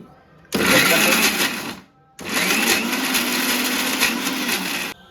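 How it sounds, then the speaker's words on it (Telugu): A mixer grinder jar pulses twice while grinding sour gongura (sorrel leaf) chutney, two loud whirring bursts with a short pause between them, close up with no talk. "ఇలా మిక్సీ జార్లో జస్ట్ ఒక రెండు తిప్పులు తిప్పండి"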